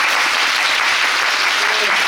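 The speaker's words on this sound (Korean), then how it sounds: "우리 정우신 배우님 께서 다시 한번 네, 박수 한번 부탁드립니다" Dense, steady clapping fills a theater as the audience applauds a musical actor during the closing-performance stage greeting, continuous and close for the whole stretch.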